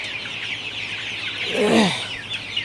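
A Sonali super hybrid chicken gives a brief cluck over a background hiss of a poultry shed, a single close call near the end amid faint farm noise.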